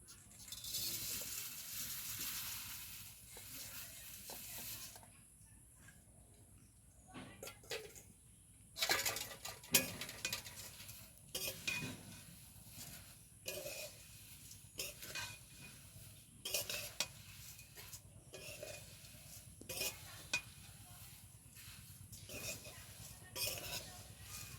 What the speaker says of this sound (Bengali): প্রথমে ভেজে নেব চিড়ে।